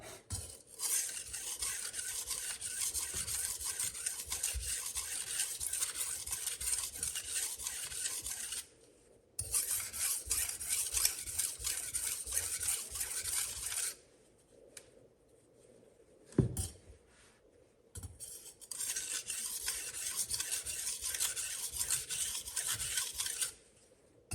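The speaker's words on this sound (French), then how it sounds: "plus on passe sur des grains fins, moins il y a d'excédent enlevé sur vos couteaux, plus le bruit et moins il y a de bruit justement" A kitchen knife scrapes rhythmically across a fine-grit whetstone in long rasping strokes, loud and close, broken by short pauses between passes.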